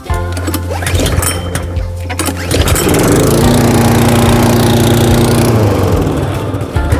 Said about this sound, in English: first I'm going to mow this lawn